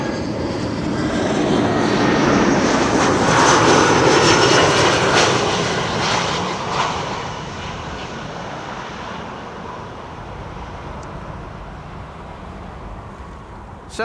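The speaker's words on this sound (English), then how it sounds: "Here's the EasyJet arriving from Newcastle, A320, flight 27860." An easyJet Airbus A320 arriving at Amsterdam Schiphol from Newcastle passes in a broad, loud jet rumble that peaks early and then settles into a lower, fading drone, heard alone.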